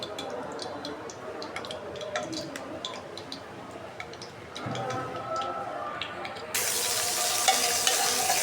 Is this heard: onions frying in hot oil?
yes